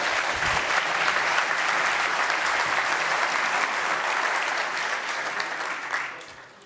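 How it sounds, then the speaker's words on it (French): An audience applauds a presenter at a French talk, dense sustained clapping filling the room for several seconds before it starts to thin and fade at the end. "Applaudissez."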